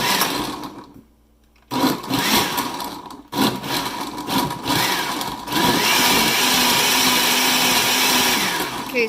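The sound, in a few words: blender pulsing almonds for homemade almond milk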